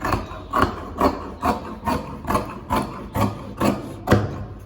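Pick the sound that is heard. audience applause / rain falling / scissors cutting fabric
scissors cutting fabric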